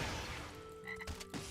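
A frog croaks in the video game Final Fantasy XIV, a faint, low call set among quiet game effects, with a couple of soft knocks near the end.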